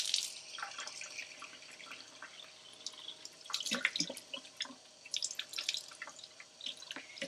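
Lukewarm running water splashes and drips irregularly in a sink as yarn is rinsed under the tap, close and fairly quiet, with no voices.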